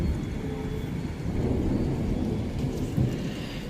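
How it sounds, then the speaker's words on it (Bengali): Rain beginning to fall outdoors in the evening, a steady broadband wash of drops with low rumbling underneath, continuous and fairly close throughout, no voices. "বৃষ্টি পড়তে আরম্ভ হয়ে গেছে।"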